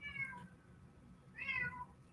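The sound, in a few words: cat meowing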